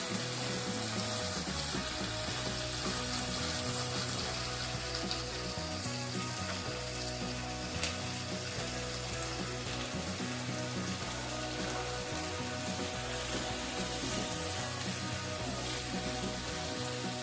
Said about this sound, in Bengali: টমেটো দিয়ে দিলাম, দিয়ে এগুলো গ্যাসের ফ্লেমটা একটু বাড়ালাম, একটু হালকা করে নেড়ে নেব